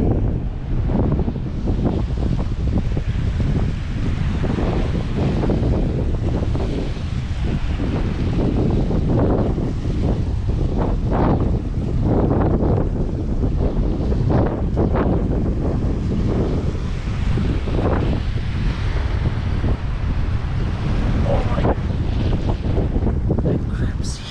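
Steady coastal wind at Cape Leeuwin roars and buffets across the microphone throughout, a constant rushing noise with occasional gusts, and faint voices beneath it.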